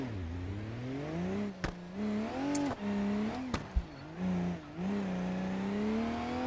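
A race car engine in a racing video game revs in rising and falling sweeps, loud and close, broken by several sharp backfire pops between gear changes.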